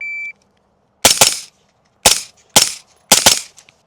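A shot-timer beep opens a drill, then suppressed 5.56 rifle shots follow in close pairs, three pairs in all with short gaps between them, each a sharp, loud crack with a brief ringing tail.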